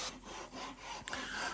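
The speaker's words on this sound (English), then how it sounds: "I'm just trimming it using the Japanese pull saw" A Japanese pull saw trims a wooden board, giving a steady, close rasping stroke sound that rises and falls in a regular back-and-forth rhythm.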